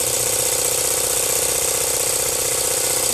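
A live steam traction engine model runs with its water pump engaged, giving a continuous, even mechanical chug with a fine rattling texture, close and steady for the whole stretch, with no voices.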